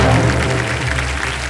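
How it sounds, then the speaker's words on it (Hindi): Loud studio audience applause on a TV quiz show welcoming newly introduced contestants, a dense continuous roar of clapping close up, with a low hum underneath. "जोरदार तालियां बज जाए इनके लिए"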